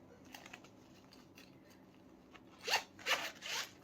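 A bag's zipper pulled open in three quick, close rasping strokes near the end, after a quiet stretch with faint handling.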